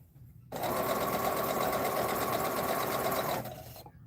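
A sewing machine stitching a quarter-inch seam in quilt piecing starts up, runs at a steady fast whirring rhythm for about three seconds, then slows and stops, close by.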